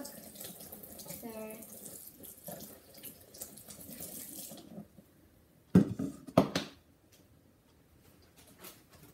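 A kitchen tap runs into a sink while a blender container gets rinsed, water hissing steadily for a few seconds before stopping, followed by a couple of sharp knocks and clatters of the container.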